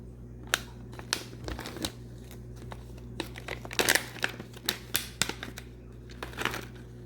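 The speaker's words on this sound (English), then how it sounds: "So I just opened up the package." A package of cacao nibs being opened in a kitchen, with close, sharp crinkles and tearing rustles of the packaging arriving in irregular bursts over a low steady hum.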